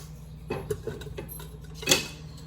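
A spoon clinks and scrapes around a breakfast bowl of food topped with dates, with a few light taps and one sharper clatter, close and fairly quiet.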